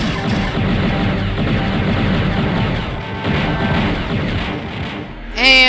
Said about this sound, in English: And now we've got enemies shooting at us from behind